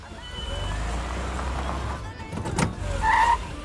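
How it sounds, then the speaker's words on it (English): A cartoon car in Family Guy drives off with an engine rumble and a brief tire screech, while a voice speaks over it. "Stewie accidentally shifts the car into drive."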